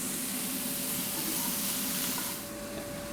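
Vegan breakfast scramble ingredients sizzle in a hot pan while being stirred, a steady close frying hiss that carries on throughout and eases slightly near the end.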